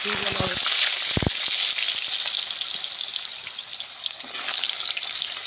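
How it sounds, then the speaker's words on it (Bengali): Potatoes fry with black cumin seeds in hot oil, a steady broadband sizzle running throughout, with a few clanks of a utensil against the pan near the start. "কালো জিরা দিয়ে আমি আলুগুলো দিই আগে কারণ আলুগুলো তো শক্ত"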